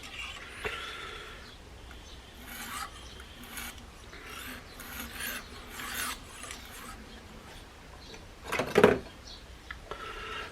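A stainless steel SOG Terminus knife blade being sharpened, with repeated soft rasping strokes at a moderate pace and one louder, sharper scrape near the end. No one speaks.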